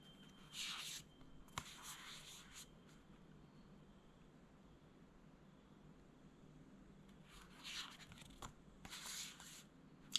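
Matte oracle cards from the Into The Lonely Woods deck flipped by hand, a soft papery riffling in short bursts, then a long quiet pause before more shuffling flips; no talking.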